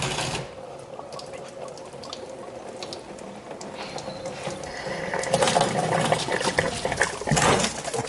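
Water drains out of RV plumbing on a fifth-wheel trailer after the plug is pulled, a steady close gurgle and splash that swells louder toward the end.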